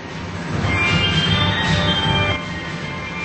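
An R211 subway train running on the R line, a steady loud rumble of wheels and car noise with faint high squeal tones, easing slightly toward the end, with no talking.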